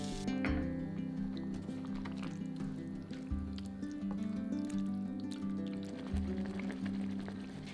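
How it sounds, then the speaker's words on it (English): Tomato pasta sauce made with chopped tinned tomatoes and sugar bubbles gently in a pan, with soft wet pops and squelches throughout, quiet beneath a steady tonal background. "Bring to a gentle bubble."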